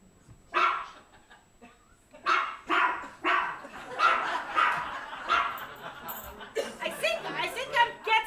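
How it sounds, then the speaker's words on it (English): A dog barks repeatedly nearby, a run of sharp yapping barks with short gaps, loud and close, mixed with people talking over it. "I can't hear anything over that bloody dog."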